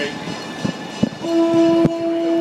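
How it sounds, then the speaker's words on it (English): A loud train horn on a scenic railroad blasts one sustained tone of a road-crossing signal after rhythmic clacking of wheels over rail joints, rumbling close by. "the traditional train horn signals for going across the road is 2 long, a short."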